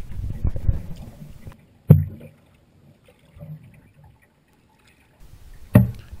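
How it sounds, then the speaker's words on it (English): A canoe paddled through a narrow, high-sided gully, with soft splashes and two sharp knocks of paddle against hull at close range amid quiet water. "It was an eerie paddle through such a narrow and high-sided gully."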